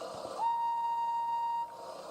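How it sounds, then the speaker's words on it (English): A steam engine whistle blows one long, steady, high note, loud and close, starting sharply and cutting off after about a second. "she blew her whistle as loud as she could"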